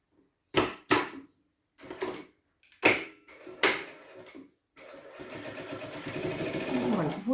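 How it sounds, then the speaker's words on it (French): A sewing machine stitching the underside of a fabric wallet pocket, first with a few short sharp bursts and thumps, then running continuously in a steady whirring stitch that builds slightly, close and clear. "je dois d'abord terminer de piquer le dessous de ma poche"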